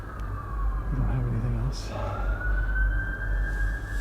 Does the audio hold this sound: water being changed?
no